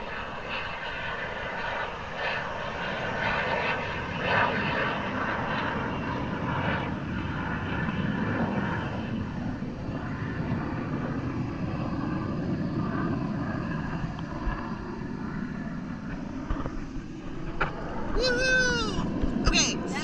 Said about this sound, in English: It's like a Blue Angel type jet.